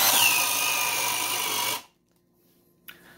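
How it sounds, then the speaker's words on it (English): A power drill runs at high speed, boring through wood with a Bosch DareDevil self-feed spade bit. The loud, steady whine with a grinding rasp cuts off abruptly, followed by near silence and a small clunk. "but this drill bogged down a significant amount"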